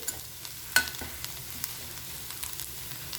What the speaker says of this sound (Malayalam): നമ്മുടെ ഇഞ്ചി നീര് നന്നായിട്ട് പിഴിഞ്ഞെടുത്തത് കൊണ്ട് നമുക്ക് പെട്ടെന്ന് തന്നെ ഇത് ഫ്രൈ ആയിട്ട് കിട്ടും